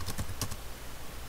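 Quick bursts of keystrokes on a computer keyboard, several close clicks in the first half second and then fading, with no talk.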